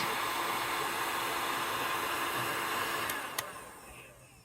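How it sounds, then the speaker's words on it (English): A heat gun blows on a heat shrink sleeve, a steady loud rushing whoosh like a hair dryer that holds, gives a couple of small clicks, then tapers off near the end. "now with the heat gun, just make sure you turn it upside down like this"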